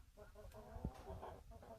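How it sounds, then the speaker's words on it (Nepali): Hens and a rooster cluck softly in a backyard flock, a faint, close, busy mix of short clucks with no talking. "यहाँ 4वटा पोथी छ होइन, अनि त्यहाँ भाले छ"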